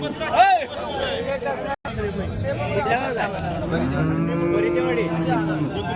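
A cow moos loudly and drawn-out near the microphone while people chatter in the background of a busy outdoor cattle market in Sangola, India, after rain.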